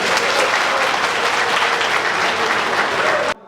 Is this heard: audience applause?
yes